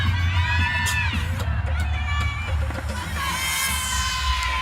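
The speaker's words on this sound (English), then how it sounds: "a huge home crowd cheering sometimes right in the middle of when you're doing something" A large home crowd at a college gymnastics meet cheers loudly and steadily, with high shouts and whoops rising above a dense roar of voices.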